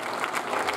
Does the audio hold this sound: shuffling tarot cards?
no